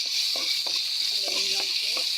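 Garlic, onion and ginger sizzle faintly in a pan with a steady frying hiss, broken by a few soft scrapes and taps of a spoon stirring them.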